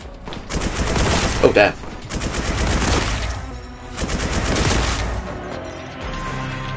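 Rapid bolt gun fire in Warhammer 40K Boltgun comes as loud, dense bursts of repeated shots separated by short gaps, with a man briefly exclaiming between volleys.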